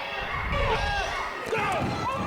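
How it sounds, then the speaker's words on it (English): A dense wrestling crowd roars and jeers at a heel wrestler, a steady wall of shouting voices with individual yells rising above it throughout. "As you can see the crowd just giving it to Stan Sierra."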